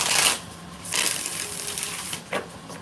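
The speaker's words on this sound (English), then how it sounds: "One more shuffle." Tarot cards are shuffled in several quick riffling bursts separated by short pauses, close and crisp with no talking.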